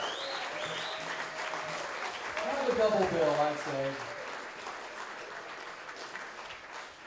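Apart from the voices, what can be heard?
applause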